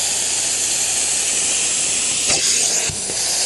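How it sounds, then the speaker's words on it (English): A carpet cleaner steams a dirty couch, giving a steady, loud broadband hiss throughout with a couple of brief breaks in the spray near the end, and no talking. "So I'm just steaming it right now."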